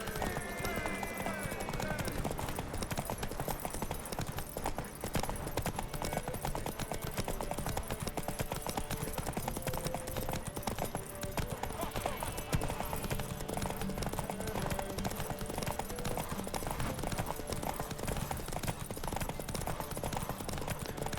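A horse gallops in a derby race in The Witcher 3, rapid hoofbeats pounding steadily throughout, with faint game voices and ambience underneath.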